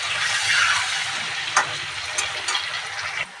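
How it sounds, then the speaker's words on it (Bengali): Saffron-mixed potatoes frying in hot oil in a wok, a steady bright sizzle with a few sharp spits and stirring clatters, close and loud with no voices. "আলুটা জাফরান মিশিয়ে কড়ার মতো দিয়ে দিলাম এটাকে এভাবে ভেজে নেব"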